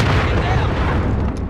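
Missile explosion in Call of Duty: Modern Warfare: a loud, close, sustained boom with a dense rumbling roar filling the whole short moment.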